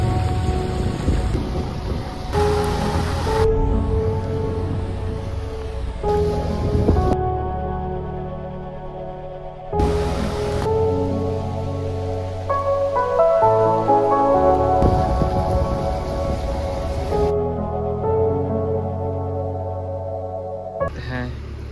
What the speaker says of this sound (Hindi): अभी तो बारिश स्टार्ट हो चुका है